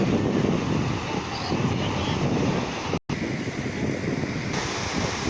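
Steady rumbling surf and wind buffet the microphone outdoors, with a low continuous roar of waves and a brief dropout partway through.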